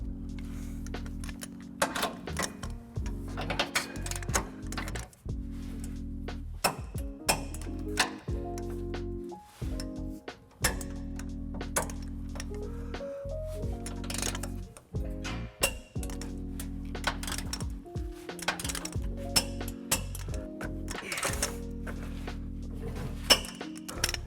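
A 19mm socket on a 5-inch extension ratchets trailer hitch bolts tight on a 2021 Nissan Titan, with rapid metallic clicks and clinks in repeated bursts amid a steady background hum, close up and without talk.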